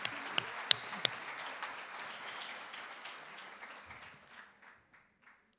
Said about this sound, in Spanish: Un aplauso para México, que se lo tiene ganado.